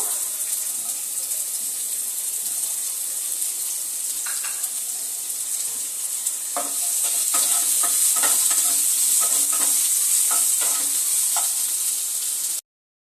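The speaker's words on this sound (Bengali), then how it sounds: "এবার একটা পেঁয়াজ আমি কুচি কুচি করে কেটে নিয়েছিলাম, পেঁয়াজটাকেও ভেজে নেব" Finely chopped onion fries in oil left over from frying peanuts, a continuous bright sizzle with a scatter of spatula scrapes and stirring clicks, growing a little louder midway before cutting off abruptly.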